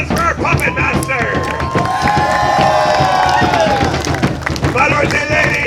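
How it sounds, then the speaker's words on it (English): A live show crowd applauding and cheering for a puppet master, with dense clapping and scattered shouts and whistles filling the space, loud and close, while a voice calls out over the noise. "My friends, a round of applause for our puppet master."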